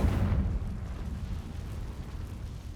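A Confringo spell explosion in the Hogwarts Legacy video game, a heavy booming burst at the start that settles into a long low rumbling tail.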